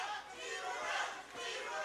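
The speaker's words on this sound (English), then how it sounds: "We got the crowd chanting Tiburon" A crowd at a hometown fight in El Monte chants for a fighter, a distant, rhythmic swell of many voices rising and falling over the arena noise.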